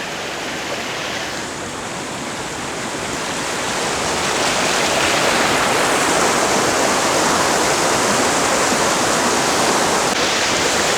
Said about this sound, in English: the big attraction is the way the water goes swiftly around all these big boulders